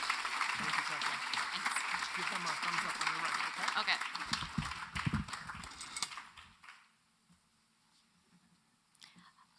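An audience giving a double clap for a presenter, heard as a burst of dense clapping that runs for several seconds under murmuring voices, then drops off sharply into near quiet.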